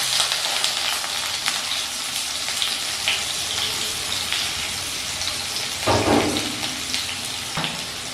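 Steamed potatoes frying in hot oil with five-spice, a steady dense sizzle throughout, with a louder burst of crackling and stirring as more goes into the pan near the end; no voices.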